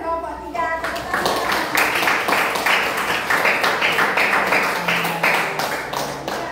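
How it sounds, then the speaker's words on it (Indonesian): Students in a classroom clap for two groups, a burst of fairly close, slightly rhythmic clapping that rises after a brief start and continues, with a voice and some chatter mixed in. "Tepuk tangan buat kelompok 2 dan kelompok 3."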